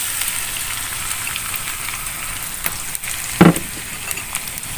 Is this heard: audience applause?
no